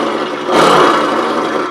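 A car engine imitated by mouth in beatbox style, a steady buzzing drone that swells louder about halfway through and then holds, heard alone with no other voices.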